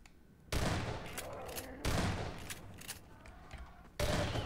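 Gunfire in the game Half-Life 2 comes in three sustained rattling bursts of rapid shots, each starting abruptly and fading out, with faint quiet gaps between them.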